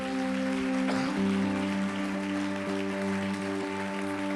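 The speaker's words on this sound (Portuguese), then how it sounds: "Aleluia, aplauda Jesus" A church congregation claps steadily throughout, a dense wash of applause laid over sustained organ or keyboard chords that hold for the full stretch.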